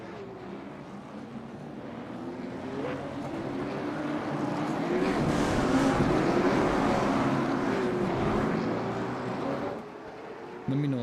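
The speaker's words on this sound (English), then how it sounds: "Let me know if these cars are a little loud for you guys." Late model race car engines from iRacing's North Wilkesboro round drone loudly and continuously, swelling in the middle as the pack runs together, with a faint voice under the engine roar.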